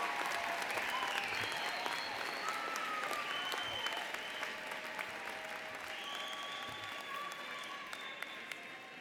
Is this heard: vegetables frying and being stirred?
no